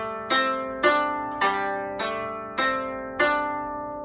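Koto played with the middle finger, six plucked notes spaced evenly about half a second apart, each ringing bright and decaying quickly; close and clear, with no voices.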